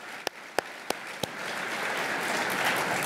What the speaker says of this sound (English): Another round of applause for Tina and for Karen.